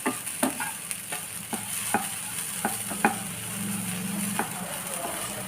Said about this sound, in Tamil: இது நல்லா கிண்டி விட்டுருங்க.